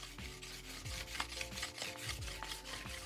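A knife blade rubs back and forth on a water whetstone under steady pressure, making a continuous rhythmic wet rasping with regular strokes, close and fairly quiet, with no speech.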